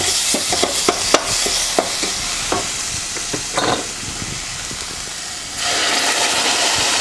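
Tomato puree blended with ginger and green chilies goes into a hot pan for shahi paneer, bringing quick clinks and stirring taps over a hiss, then a loud steady sizzle that rises abruptly near the end.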